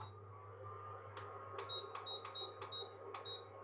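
A kitchen timer, set to 25 minutes for boiling eggs, gives a series of short, sharp electronic beeps in quick succession as its buttons are pressed, over a steady low kitchen hum.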